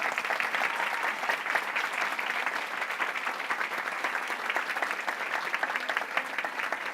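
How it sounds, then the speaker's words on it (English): Steady applause fills the room as an audience claps for the school principals leading the Irvin feeder pattern, a dense, even wash of hands sustained throughout without any talk. "And let's give them a round of applause."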